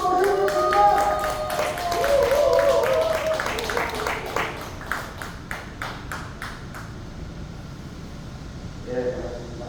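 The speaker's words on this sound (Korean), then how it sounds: "박수로 모셔보겠습니다." A hall audience gives scattered applause for a professor at the launch ceremony of a Busan car parade. A few sparse, crisp claps ring out midway after a stretch of bright tones, then fade into quiet room hum.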